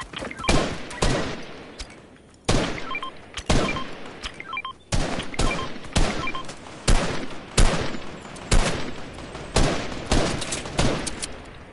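Fortnite gunfire crackles in repeated loud bursts of sharp shots, each volley trailing off before the next, steady rhythmic firing throughout.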